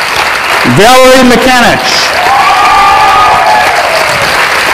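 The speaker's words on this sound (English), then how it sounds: "keep clapping" Sustained audience applause at a scholastic book fair awards presentation, a dense wash of clapping continuing throughout while a presenter reads out names over it.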